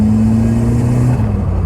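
A barn-find Ford Escort RS Turbo S2 drives with its engine revving loud and close. The droning engine note holds steady, then dips slightly as the revs change near the end.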